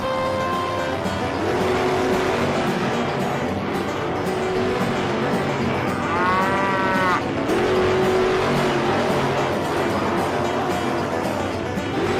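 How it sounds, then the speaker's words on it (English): Cartoon farm tractors rev and race for about twelve seconds, with engine whines that rise and fall, brief squealing tones and scattered farm-animal calls mixed into a busy, loud scene. "Tractors, start your engines."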